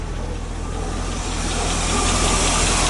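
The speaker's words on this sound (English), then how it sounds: "It's idling on its own, man." A 1986 Chevy K10 engine idling on its own after sitting for nine years, a steady close rumble with hissing noise that swells slightly toward the end, with no voices.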